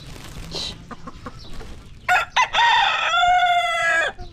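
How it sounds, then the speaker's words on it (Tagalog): Chickens cluck in short bursts close by, then a rooster lets out a loud, drawn-out crow that holds for over a second before breaking off. "Ang manok ng ina na pinakamaliit na manok."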